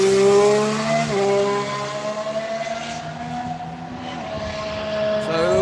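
Formula 1 race car engines scream along a circuit in a loud, continuous high-revving whine, pitch dropping and rising through gear shifts as the cars pass.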